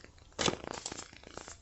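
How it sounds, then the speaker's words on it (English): Tarot cards being shuffled by hand, with crisp riffling and crinkling card sounds and a sharper burst near the start, close and fairly quiet. "I'm going to do a couple more shuffles."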